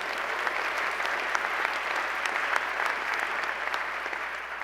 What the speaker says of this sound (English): You can give the chair a round of applause,